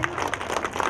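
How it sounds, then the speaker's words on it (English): Audience at a school talent show claps in a brief, dense burst of applause, close and steady throughout the short moment. "please give them a big round of applause"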